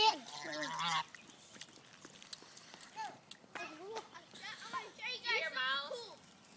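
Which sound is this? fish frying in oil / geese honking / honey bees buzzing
geese honking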